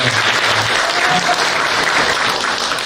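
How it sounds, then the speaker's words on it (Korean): A crowd at a political party's founding convention breaks into thick, continuous applause after a vocalist's celebratory song, loud and close, holding steady for a few seconds without speech. "박수로 감사하겠습니다"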